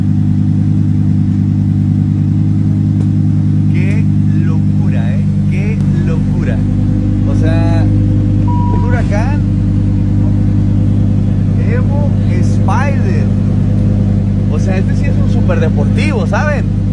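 A Lamborghini sports car engine runs with a deep, steady, close rumble that swells briefly as it is revved, while voices talk over it throughout.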